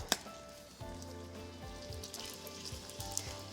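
Floured beef cubes browning in the base of a Calphalon stovetop pressure cooker, a steady soft sizzle and crackle with a few sharper pops near the start, no voices over it.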